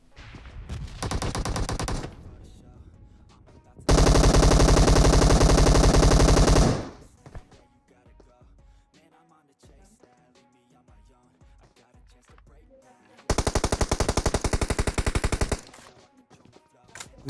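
Automatic gunfire in the mobile game PUBG Mobile (KR version): three long, loud bursts of rapid shots, each lasting a couple of seconds, separated by quieter stretches of in-game clatter and footsteps.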